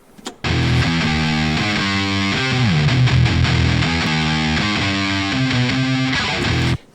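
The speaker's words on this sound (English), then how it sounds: "And now with max pick attack." A distorted electric guitar plays a chugging metal riff through an Axure amp plugin set to maximum pick attack, loud and continuous with sharp percussive picking and a bright noisy edge, stopping abruptly near the end.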